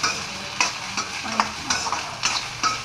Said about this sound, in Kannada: ಸಣ್ಣಗೆ ಹೆಚ್ಚಿಕೊಂಡು ಈ ರೀತಿಯಾಗಿ ಫ್ರೈ ಮಾಡ್ಕೋಬೇಕು